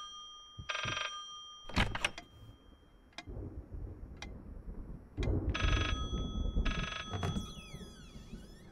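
A telephone rings inside the horror game Layers of Fear in short repeated electronic bursts, three distinct rings separated by clicks and ticking, with creaking ambience beneath and no talk.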